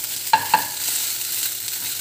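Chili, garlic and onions frying in a pan for fried rice made with Asian leftover rice, a steady hiss of sizzling with two sharp utensil clinks early on, close and without speech.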